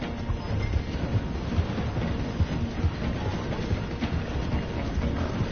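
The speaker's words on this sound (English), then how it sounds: "The train is slowing down to go through the station." Train in the video game Red Dead Redemption 2 slowing to pass through a station, a steady low rumble with rattling, clattering wheel noise that stays loud and continuous throughout.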